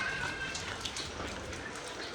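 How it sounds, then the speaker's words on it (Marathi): Rain falling as a steady, faint hiss of drops pattering on surfaces outdoors, with no talk. "पाऊस पण पडतोय."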